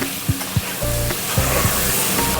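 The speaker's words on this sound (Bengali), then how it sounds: "এই যে ডিমগুলো ভাজতে বসিয়ে দিয়েছি" Eggs frying in hot oil seasoned with salt and turmeric, a steady close sizzle with brief crackling spurts and a few bumps from the pan, no talking.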